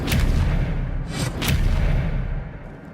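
Expelliarmus, the disarming spell cast in the Hogwarts Legacy video game, lands as a couple of loud booming magical blasts, each with a bright crackling burst, before the sound fades out.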